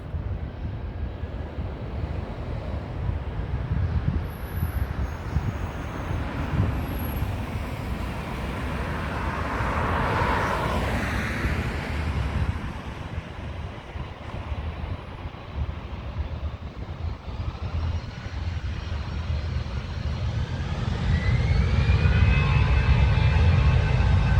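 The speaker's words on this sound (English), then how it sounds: "So next for departure is this Aer Lingus Airbus, call sign Shamrock." An Aer Lingus Airbus departing London Heathrow, a broad jet engine roar swelling to a peak midway then receding, heard from a distance with wind rumble and other traffic noise beneath.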